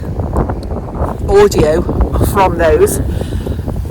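Wind gusting across an allotment, a steady buffeting rumble and microphone noise running throughout under a person talking.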